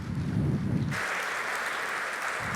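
A closing-ceremony audience at a forum applauds a woman named Evelyne, the clapping broad and sustained at moderate distance before thinning into a steadier, lighter patter.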